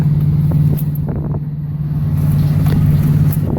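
A pump engine running steadily during wheat cutting, a loud, continuous low drone with a constant hum, close and alone without talk.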